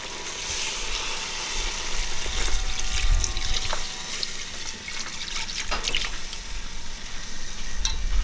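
Broth pours into a pot of Guyanese pepperpot with oxtail, a steady wet splashing and gurgle with clinks and stirring scrapes, close and continuous in a kitchen.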